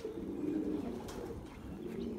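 Pigeons coo inside a loft housing racing birds, a steady low murmur of overlapping coos filling the space at moderate volume with no talking.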